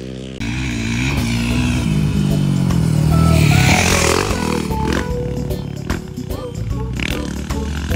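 A racing motorcycle screams past at high speed on a straight, its engine loud and steady with a rising then falling pitch as it passes, mixed with excited shouting nearby.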